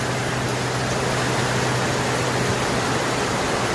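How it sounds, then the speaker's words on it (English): Rainwater running off a rooftop and draining into an underground harvesting system during heavy rain in Delhi, heard as a steady, dense rushing wash that stays even and loud throughout. "Here you can see the rainwater from the rooftop is going here"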